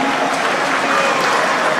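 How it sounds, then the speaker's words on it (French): A large crowd at a political congress of the Union sacrée in the Democratic Republic of Congo applauds loudly and continuously, a dense, close wash of clapping with no pauses. "est-ce qu'on peut bien applaudir pour le Grand Kivu?"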